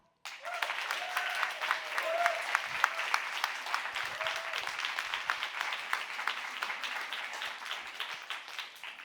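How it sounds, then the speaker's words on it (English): A debate audience claps to vote for the team arguing against the motion, a sudden onset of dense, sustained applause that holds steady for several seconds, with some murmuring voices beneath. "if you think the against team won you over, please clap"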